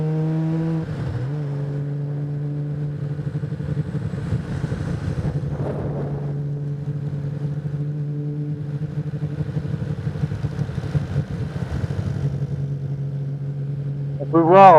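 A Honda CBX 1000 road motorcycle ridden through a series of small bends: a steady, droning engine hum with wind rush, holding a fairly even pitch, then swelling and rising sharply at the very end.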